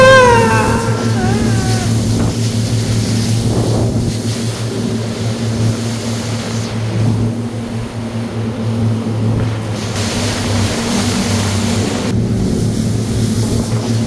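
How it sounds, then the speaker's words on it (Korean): A tour boat rides in and out of waterfall spray, its motor a steady low drone under broad rushing noise, with brief excited voices at the start. "폭포를 들락거리며 사방에서 뿌려지는 폭포수를 맞는 체험"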